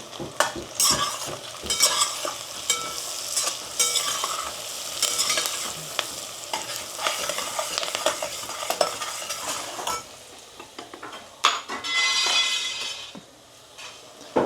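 Curry leaves, green chillies and turmeric hit hot oil in a pan for sabudana khichdi, giving a steady, close sizzle broken by bursts of stirring and occasional light metallic clinks.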